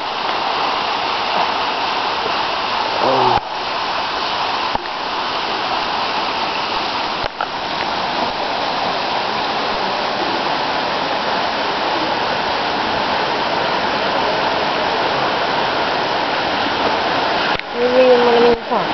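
Water rushes steadily from an outdoor waterfall or stream, a loud continuous wash of noise with voices chatting briefly over it.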